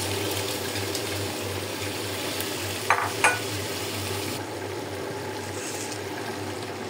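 A small handful of mung dal and chickpea dal drops into a frying pan of cooking vegetables with tomato. Two quick rattling patters rise over a constant low sizzle, with no talk.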